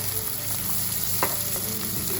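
Onions frying in a pan for an egg curry, a steady close sizzle with occasional soft stirring scrapes and no talking.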